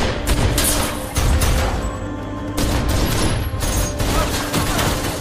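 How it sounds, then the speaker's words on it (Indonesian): An exchange of gunfire in an action film about a sniper: dense, rapid shots and booms pile on one another loudly and continuously without a break. "kemudian terjadilah baku tembak antar mereka."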